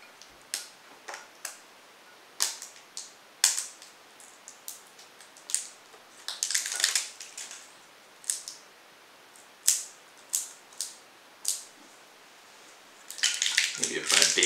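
The seal of a Canadian Club 40 whisky bottle being worked open by hand, with sharp scattered clicks, snaps and crinkly scratching in irregular bursts, close and fairly quiet, and a louder crackle near the end.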